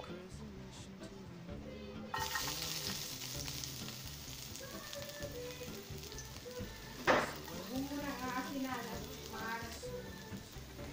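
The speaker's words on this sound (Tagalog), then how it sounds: "Once na mainit na, ihulog natin yung garlic." Garlic drops into hot oil in a pan and begins a steady, soft crackling sizzle, with a brief clatter of stirring partway through and a voice talking over it.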